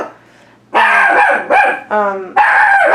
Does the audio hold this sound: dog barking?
yes